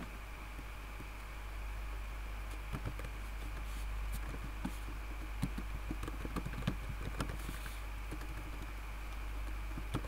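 Someone types on a computer keyboard in irregular bursts of soft clicks and taps, close by, over a steady low electrical hum and background hiss.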